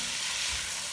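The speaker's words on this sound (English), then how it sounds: "I'm going to add the tomatoes" Tomatoes hitting softened onions in a hot pan for an empanada picadillo filling, giving a continuous close, bright sizzle that holds steady for the brief moment with no voices.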